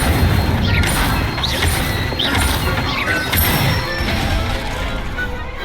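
Incendio fire spells from Hogwarts Legacy strike in quick succession, loud whooshing bursts and crackling impacts over a dense, constant game soundscape.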